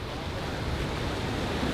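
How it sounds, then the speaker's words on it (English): Strong wind at the beach, mixed with the surf at Pipeline, makes a loud, steady roar and rumble that buffets the microphone, with no voices heard. "it's too windy for me to fly my drone right now"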